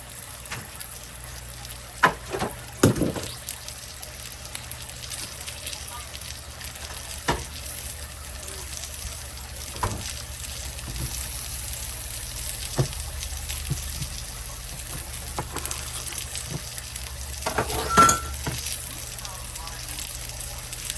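Butter sizzling and frying in a pan over potatoes, a steady close crackle with occasional sharper pops and stirring clicks, carrying on continuously throughout.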